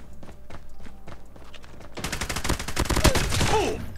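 Rapid bursts of gunfire in Call of Duty Mobile, starting as lighter separate shots and then swelling into a loud, dense volley with sharp cracks and a whooshing sweep near the end.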